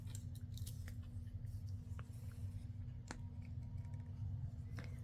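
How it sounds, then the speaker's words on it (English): Scissors trim the excess from an acetate sheet, making a few crisp, close snips over a steady low background hum. "I might trim the acetate a little bit because it's cut around bigger."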